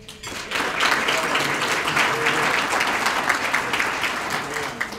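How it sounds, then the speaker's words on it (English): A luncheon audience breaks into a big round of applause after a brief quiet start, the clapping rising quickly to a loud, full, sustained patter that holds steady, with a few voices faintly mixed in. "Let's give them another big round of applause"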